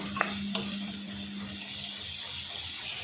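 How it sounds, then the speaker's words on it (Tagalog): Chicken liver being stirred in a frying pan for adobo, a soft steady sizzle with a couple of brief clinks of a utensil near the start, close and alone without talk. "Lalagay po ng liver, atin itong halu-haluin konti."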